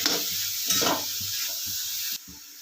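Grated carrots being stirred in hot ghee, a close, soft sizzling hiss with scraping stir strokes that briefly swell, then thin out near the end. No voices.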